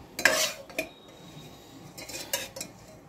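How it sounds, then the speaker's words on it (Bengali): Boiled chickpeas are mashed with a utensil in a pot: a few quiet metallic scrapes and clinks, clustered at the start and near the end, with soft pauses between. "এটাকে একটু এটা দিয়ে ম্যাশড করে নিচ্ছি"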